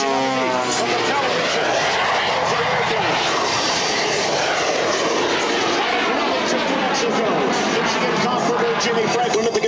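An aerobatic airplane performs at the 2004 Quad City Airshow, its engine a loud, continuous roar that rises and falls in pitch as it maneuvers, while an announcer talks over it.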